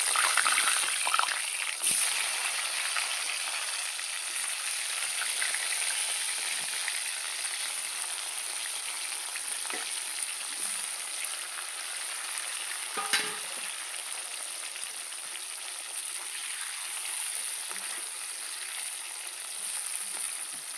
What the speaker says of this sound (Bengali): ওই তেলের মধ্যে আমি দিয়ে দেবো আলু।